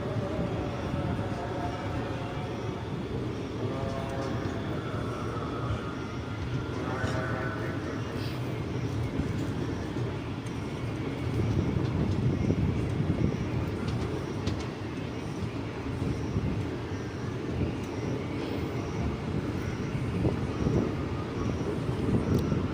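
A passenger train pulls away from a small rural halt on the Mailani–Pilibhit line, a steady rumble and rattle of wagons building slightly in the second half, with a voice talking over the running noise throughout.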